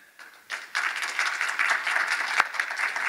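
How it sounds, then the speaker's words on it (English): A conference audience at a sustainable agriculture session applauds a three-person panel, the clapping starting sparse and quiet, then swelling into a steady, moderately loud round. "I think we have a huge round of applause for our panel"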